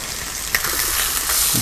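Chicken frying in a pan with butter, a steady close sizzle throughout with a brief sharper crackle partway through, no voices.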